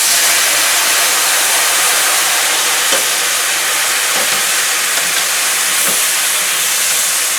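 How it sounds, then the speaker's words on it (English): White wine sizzles and hisses steadily as it deglazes a hot pan after frying pork chops for smothered pork chops, a loud continuous sizzle with no talking. "So, deglaze with a little white wine,"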